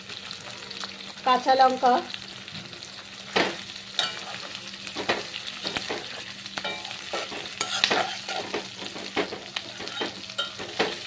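Chopped capsicum and green chilli stir-fry with onion in a pan for egg fried rice, giving a soft steady sizzle broken by scraping spatula strokes and knocks, with a few brief spoken words over it.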